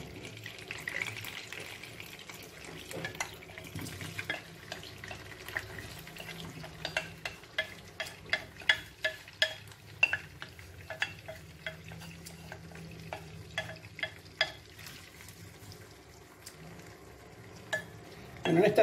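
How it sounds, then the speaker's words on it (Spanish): Onion sizzles gently in oil in a pan while a sauce for stuffed squid is made, with soft frying crackle and a series of sharp scraping stirs and utensil clicks. Fairly quiet, with no talking. "En este mismo aceite vamos a echar la cebolla."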